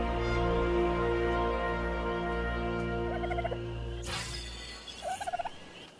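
A bird in the game Ark: Survival Evolved calls in short warbling bursts over a constant droning game ambience, with a sharp noisy hit partway through, near and moderately loud.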